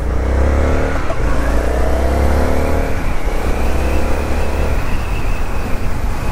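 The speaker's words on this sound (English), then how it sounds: "but the second you think about revving that throttle, it is ready to rip." A 2024 Indian FTR 1200 motorcycle with factory exhaust revs and accelerates up through its gears, a loud continuous roar with rising pitch sweeps, heard up close.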